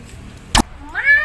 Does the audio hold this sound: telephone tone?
no